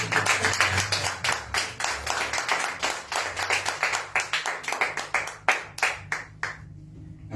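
A church congregation applauds during a Spanish-language sermon, loud sustained clapping with a rhythmic pulse that slows and breaks apart near the end.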